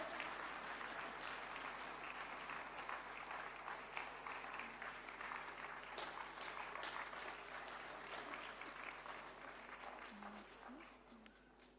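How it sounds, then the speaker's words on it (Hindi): Sustained audience applause fills the hall at the inaugural session of Yoga Connect 2025, a steady dense wash of many hands clapping, fading slightly at the end, with a voice faintly heard beneath. "आप सभी की जो ये तालियों की गड़गड़ाहट है ये कम ना हो"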